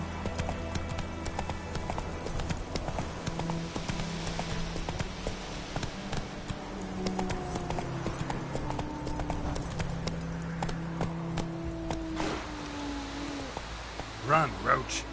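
Roach the horse galloping in The Witcher 3, rapid rhythmic hoofbeats thudding steadily throughout, with game music and ambient tones beneath and a brief swell near the end.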